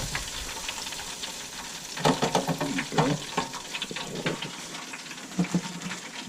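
Pieces of remora, the shark sucker, fry in hot oil with a dense crackling sizzle that swells into bubbling bursts as more fish goes in, close and continuous.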